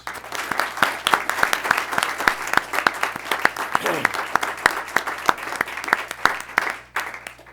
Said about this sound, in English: We need to give them a round of applause.